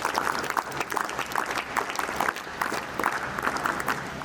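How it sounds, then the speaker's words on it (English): Steady crowd applause for an award recipient at a school investiture ceremony, a dense, continuous patter of many hands lasting throughout without letup. "Please give a huge round of applause to her."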